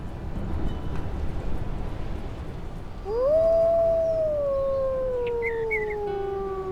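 A wolf in a video game lets out a single long, clear howl that rises and slowly falls in pitch, sounding over a low ambient background rumble.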